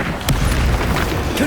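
A Confringo fire spell bursts in the Hogwarts Legacy video game, a loud booming blast layered with a low rumble amid ongoing combat effects and a voice.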